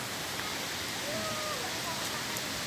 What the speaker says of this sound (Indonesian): Ini jembatan ini airnya sangat deras sekali ini.